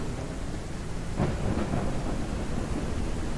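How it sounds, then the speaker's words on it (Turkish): Steady heavy rain hisses throughout in the farming game Ranch Simulator, with a low thunder rumble rolling in partway through, loud and close, with no voices. "çok çok ses geliyor ya yağmur yağınca."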